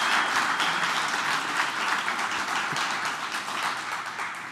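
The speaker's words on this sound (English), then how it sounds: "Can we get one more round of applause for Rootvig and Allie?" Sustained audience applause fills a conference hall at Bubblecon 2024, a dense, steady clatter of many hands that stays loud throughout and tapers only slightly toward the end, with no talk over it.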